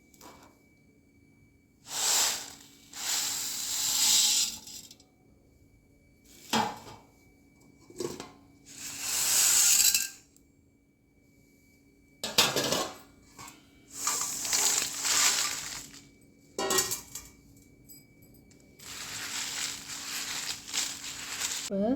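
Roasted chana dal, toor dal, mustard seeds, fenugreek, cumin and black pepper for sambar powder being tossed and mixed together, giving repeated dry rustling, crinkling bursts of varying length with short pauses between them.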